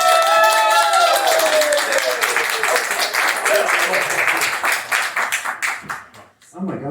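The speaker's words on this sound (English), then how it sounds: "And let's give him a big round of applause." An audience at a bookstore event at Fabulosa Books in San Francisco breaks into close, lively applause mixed with cheering voices, which tapers off into scattered claps.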